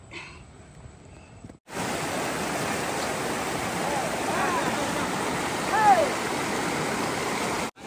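The Bahubali waterfall at Sariya, near Visakhapatnam: a dense, steady rush of falling water fills the scene after a brief quieter opening, loud and close, with a faint voice beneath it.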